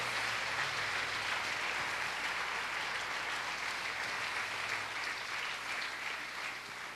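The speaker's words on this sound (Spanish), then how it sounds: "denle un aplauso al Señor" Congregation applause in a Spanish-language church service, a continuous wash of many hands clapping, steady and fairly distant, with a low hum underneath and no speech.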